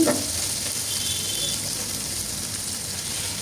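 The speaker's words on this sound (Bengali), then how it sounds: "তেলে দিয়ে নাড়াচাড়া করে ভেজে নিচ্ছি" Chicken and onions frying in hot oil, a dense, even sizzle that holds steady after a brief stirring clatter at the start, close and fairly loud, with no talk.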